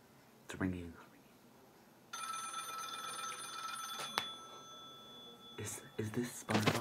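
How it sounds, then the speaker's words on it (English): A telephone rings with a steady electronic tone for a few seconds, between brief bursts of quiet voices. "Ringing"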